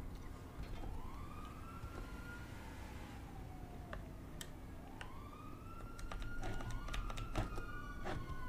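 Police sirens wail in GTA V, police on motorcycles cruising nearby, with repeated rising and falling sweeps that overlap over steady game background noise and scattered clicks.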